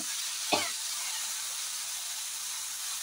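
Tomato and fenugreek leaf chutney frying in a pan, a loud, steady close sizzle and hiss throughout, with one brief sharp spatter near the start.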